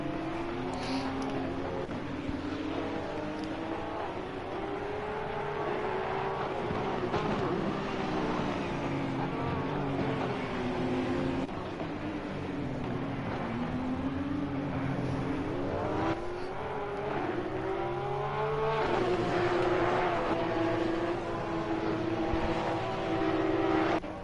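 Race cars in the sim racing game Assetto Corsa Competizione roar continuously as a pack runs closely together, with engine notes rising and falling through gear changes over a sustained, loud mix.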